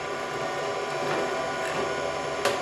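A milling machine running while cutting 4140 pre-hard steel to make V blocks, a steady mechanical hum and whir with faint tonal whine and light cutting chatter, continuous and close, ending in a short sharp click.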